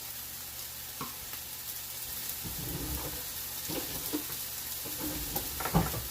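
Tomatoes cook in a pan for a sauce with a steady soft sizzle throughout. Occasional light clinks and stirring knocks sound close by.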